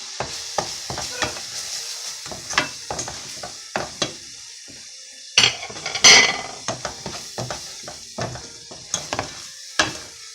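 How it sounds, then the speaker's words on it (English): A spice mix browns in a pan over medium-low heat for black bean sauce, with a faint steady sizzle beneath repeated close scraping and stirring strokes and the occasional clink of a utensil against the pan. "I'm going to continue browning this spice mix on medium to low"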